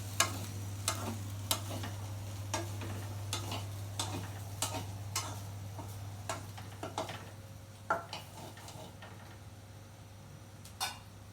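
Potatoes fry in a pan on a home stove as a father cooks one-handed while holding his daughter: soft, scattered spatula clicks and scrapes over a faint sizzle and a low steady hum, fairly quiet.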